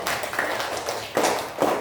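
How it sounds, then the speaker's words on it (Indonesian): Students in a classroom clap for group 3, a short burst of uneven hand claps that swells in a few waves, moderately faint with some background voices. "tepuk tangan dulu untuk kelompok 3"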